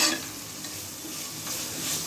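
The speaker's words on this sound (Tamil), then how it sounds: "எல்லாமே எண்ணெயில் வதங்கணும்" Mint and coriander leaves sautéing in hot oil for coconut milk rice, a steady close sizzle with soft scraping of a spoon stirring through the pan, no voices.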